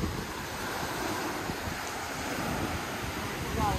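Sea waves washing in close to the shore on Koh Chang island, Thailand, a steady broadband surf rush with wind noise on the microphone, continuous and fairly loud throughout.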